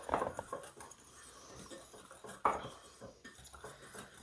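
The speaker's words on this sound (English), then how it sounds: "So let's go ahead and just stir this up here." Blueberry buttermilk pancake batter is stirred in a bowl with a utensil, giving quiet scraping and a couple of sharper clinks against the bowl's side, faint and close, with no talking.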